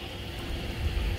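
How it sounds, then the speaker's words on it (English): Water pours steadily from a freestanding waterfall jacuzzi tub beside a quartz pool at a luxury model home in Orlando, a constant close, rain-like splashing hiss with no voices over it. "so you have that freestanding waterfall jacuzzi tub."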